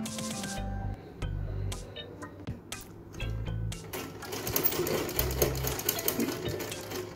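Sewing machine stitching a blouse, running in quick mechanical bursts with short pauses between them, fairly close but modest in level, with light handling rustle and no talking.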